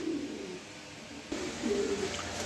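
Soft, low coos from a pair of Mukhi pigeons repeat a few times over a quiet background, fairly close, with a slight rise in level midway.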